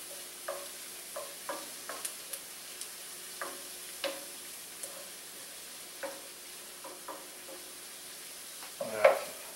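A spinach mixture sizzles softly in a pan while being stirred, with regular light scrapes and taps of the utensil about once a second over a quiet frying hiss, ending in a louder clatter.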